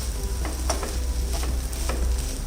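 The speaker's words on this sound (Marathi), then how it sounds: "यात आता थोडंसं ओलं खोबरं घालूया" Potato upama with grated coconut being stir-fried, producing a steady close sizzle punctuated by repeated spatula scrapes and taps against the pan.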